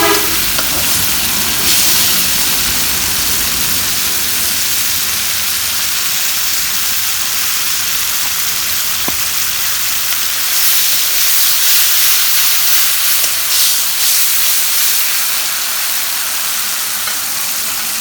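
Garlic and ginger paste sizzles loudly in a hot pan while cooking vegetables with small fish, a steady close hiss and crackle that holds for the whole stretch with no talk.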